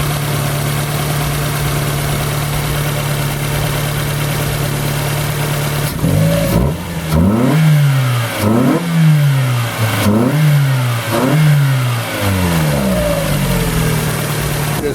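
A race car's engine with its exhaust removed: a steady idle hum for six seconds, then a series of sharp, loud revs climbing toward 4,000 rpm and falling back, repeated about five times.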